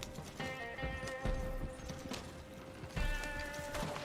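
Horse hooves clip-clop steadily in the Red Dead Online video game, with an occasional whinny and faint game ambience, sounding moderately near, with no talk over it.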